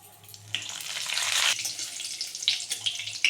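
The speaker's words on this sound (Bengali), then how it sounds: "জিরে ফোড়ন দিয়ে দিলাম। দুটো তেজপাতা দিয়ে দিচ্ছি।" Cumin seeds and two bay leaves hit hot oil for a tempering, giving a bright, steady sizzle and crackle that swells midway and then settles into a continuing hiss with small pops, fairly close by.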